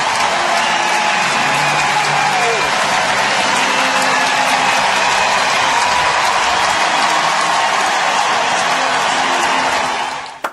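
A large ballpark crowd gives a sustained ovation for pitcher Matt Cain, a broad, loud roar of clapping and crowd noise that holds steady for about ten seconds before cutting off sharply.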